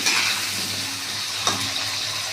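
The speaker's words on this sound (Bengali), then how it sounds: "নাড়াচাড়া করে একটু ভালো করে ভাজা করে নেব" Steady frying hiss from a pan, continuous and fairly close, with a brief stirring scrape partway through and no voices.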